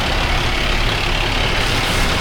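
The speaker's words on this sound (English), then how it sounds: "fire engines." Heavy fire engines arrive at a building fire at night in Manchester, their engines producing a loud, close, dense rumble with broad noise that stays steady over the short stretch.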